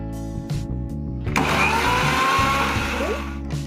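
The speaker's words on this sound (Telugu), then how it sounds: "ఇప్పుడు పుచ్చకాయ ముక్కల్ని మిక్సీలో వేసుకుని గ్రైండ్ చేసుకుందాం." A kitchen mixer grinder starts up partway through and blends watermelon pieces into juice with a loud, steady motor whir and churning close by, after a lower running hum.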